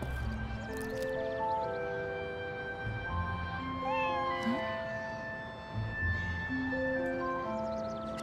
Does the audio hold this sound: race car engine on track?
no